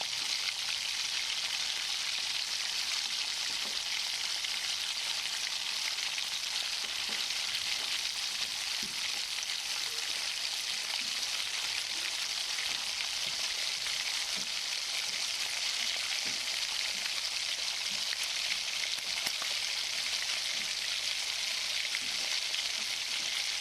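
Onions frying with salt in a pan for an oola dish, giving a steady dense sizzle and crackle throughout with occasional stirring sounds and no talk.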